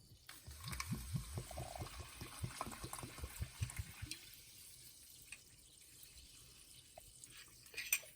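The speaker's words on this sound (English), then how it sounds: "Let's pour some water in." Carbonated water is poured into a container, a soft splashing stream early on, then faint fizzing and scattered drips as it settles, quiet and close.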